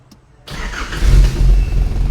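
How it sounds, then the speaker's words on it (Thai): A 1992 Nissan Big M pickup truck's 2.5-litre engine cranks and catches after a moment of quiet, settling into a loud, steady low rumble close by. "ตอนนี้เครื่องยนต์ติดแล้วนะครับ"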